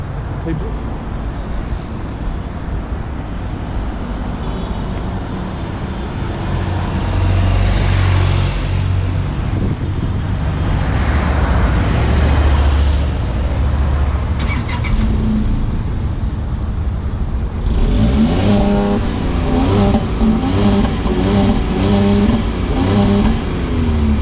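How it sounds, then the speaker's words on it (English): Tata Tiago JTP, a 113 hp hatchback, accelerating on the road, with a sustained loud engine drone and exhaust note rising through the gears and someone speaking over it. "The exhaust sounds amazing."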